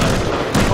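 Gunfire in the survival game Rust: a dense, loud burst of shots filling the whole moment, with a fresh volley cutting in near the end.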